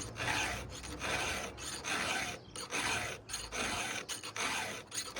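A hand file sharpens chainsaw teeth, logger style, giving a steady series of close, dry rasping strokes with brief pauses between each pass.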